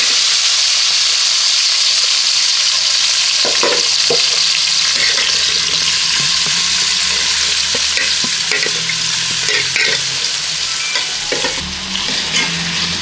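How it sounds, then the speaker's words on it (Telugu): Snail meat frying in a pan of hot oil for a village-style recipe gives a steady, loud sizzle throughout, with occasional stirring clatters and scrapes over the continuous hiss. "ఇలా నూనెలో కొద్దిసేపు ఈ మాంసాన్ని ఫ్రై చేసుకోవాలి."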